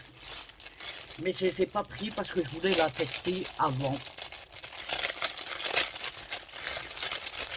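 Paper crinkling and rustling indoors, close to the microphone and fairly steady, with someone speaking French over it in the first half.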